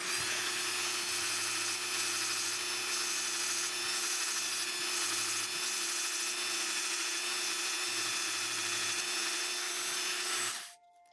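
Continuous close, loud rotary grinding hiss of a lock pin being sanded at 600 grit, steady for about ten seconds before cutting off abruptly at the end.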